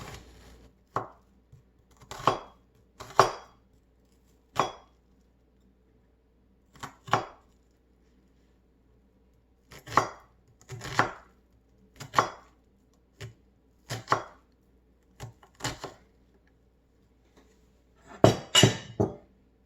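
A knife finely dicing an onion on a cutting board: sharp, close chopping taps in irregular clusters separated by quiet pauses, with no talking.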